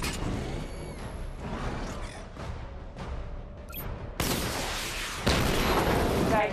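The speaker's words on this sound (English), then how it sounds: "Charge the missile barrage to level 2 to destroy up to 4 targets at once" Booming missile-barrage fire and blasts from the Batman: Arkham Knight video game, rolling bursts with whooshes that grow louder and denser toward the end, without speech.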